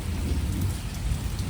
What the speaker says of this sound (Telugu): సరైన మెరుపులు పిడుగులే పడుతున్నాయి.